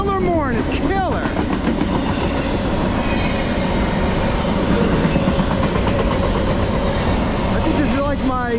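A Norfolk Southern 24X freight train with locomotives 9941, 4291 and 9952 rolls steadily past close by in Middlesex, New Jersey, wheels clattering over the rails with a continuous rumble and occasional high squeals.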